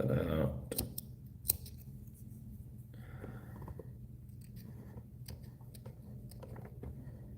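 Scissors trimming material at a fly-tying bench: a few sharp, quiet snips against a hushed room, with someone talking softly in the background.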